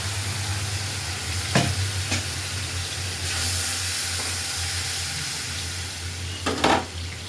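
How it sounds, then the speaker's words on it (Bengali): Hot water splashes into a frying turmeric and chili spice masala while it is stirred; a steady, loud hiss fills the clip, broken by a few sharper scrapes and bursts, with no voices. "সাথে দিয়ে দিলাম কষানোর জন্য একটু গরম পানি"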